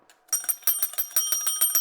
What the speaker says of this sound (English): That's the go to break bell.